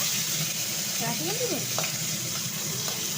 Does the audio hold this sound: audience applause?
no